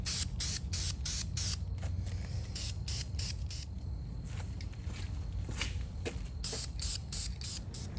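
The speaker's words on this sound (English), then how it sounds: "hit it with a little light coat of spray paint" Aerosol spray paint applied in short bursts to a car part during work on a 1963 Cadillac, a series of close, hissing sprays with brief pauses between them.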